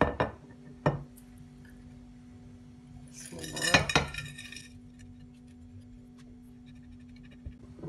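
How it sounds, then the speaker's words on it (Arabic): A utensil scrapes and clinks as softened butter and biscuit mixture are spread into a baking tray for an Eid dessert, a cluster of close strokes in the middle between a few isolated knocks in a quiet kitchen. "هلأ بمدهم بالصينية"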